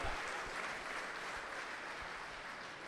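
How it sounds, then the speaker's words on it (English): An audience at a Bitcoin talk breaks into applause, a steady, even sheet of many hands clapping in a hall, sustained throughout with no speech over it. "Claps are good. We allow claps."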